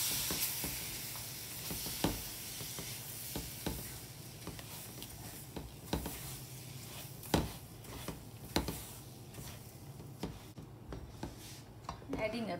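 Sweet rava ladoo mixture stirred in a pan with steady sizzling and soft scraping, punctuated by spoon taps and clinks, as a voice talks quietly throughout.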